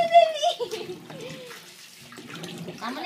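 Tap water runs into a bathtub, splashing and gurgling close by while a child and an adult talk over it in short bursts.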